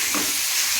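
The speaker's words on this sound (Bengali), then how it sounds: "এই যে আলুটা আমি ভেজে নিচ্ছি" Potatoes fry in a pan in a home kitchen, giving a steady, close hiss and sizzle of hot oil over a brief moment.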